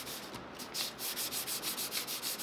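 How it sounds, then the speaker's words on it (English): Rhythmic rubbing strokes of sandpaper on a wooden game board, smoothing the seams, about a dozen even back-and-forth passes, close and fairly quiet. "it gets a quick sanding to smooth out the seams"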